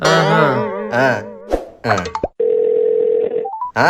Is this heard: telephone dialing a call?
yes